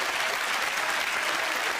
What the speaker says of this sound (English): Round of applause, I think.